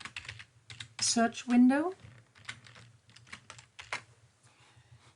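Computer keyboard typing, entering a search term in software, as quick light key clicks mixed under a man's speech.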